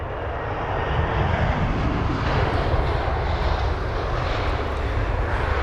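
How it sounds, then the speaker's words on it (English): Reverse thrust from an aircraft landing at Heathrow, a dense, steady, loud jet roar with strong low rumble lasting several seconds, no voices over it. "reverse thrust to actually be so loud to the point that I couldn't speak"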